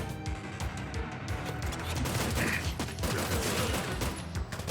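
Gunfire in the video game Terminator 2D: No Fate: a loud, dense barrage of shots pours out continuously, with bursts crowding together and no pauses.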